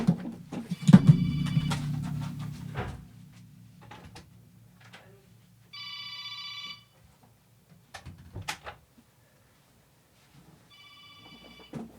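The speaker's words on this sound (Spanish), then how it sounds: "Voy de nuevo a atender el teléfono." A telephone rings in a quiet room, its electronic bell sounding in two short bursts set several seconds apart. A few clicks and knocks fall between the rings, and a low rumble and some movement come before them.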